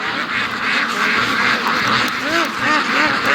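Marbled ducks, also called leopard ducks, quack in a rising chorus of nasal calls over a steady outdoor hiss, growing denser toward the end, with a person's voice mixed in beneath.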